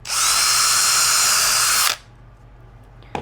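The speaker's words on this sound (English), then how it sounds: "So I'm going to drill down and do another one." A power drill boring into wood whines loudly and steadily for about two seconds, then cuts off, leaving quiet room tone and a brief click at the end.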